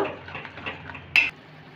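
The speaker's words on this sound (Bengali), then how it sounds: "দইটাকে একটু মশলার সাথে আর একটু কষে নেব" Whisked yogurt stirred into spices in a pan, with soft scraping and stirring for most of the moment, then one brief, sharp metallic clink near the end.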